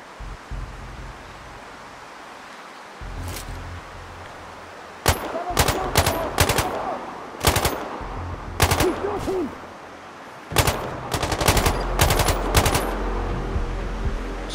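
Rifle and gun shots ring out in the Altai mountains setting of Sniper Ghost Warrior Contracts: sharp, loud cracks, some single and some in quick clusters, spread over a quiet ambient background.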